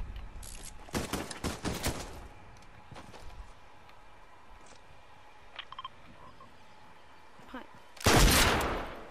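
Gunfire in a video game: scattered sharp shots and quick bursts early on, then quieter mechanical clicks, ending with a loud, sustained blast of rapid fire.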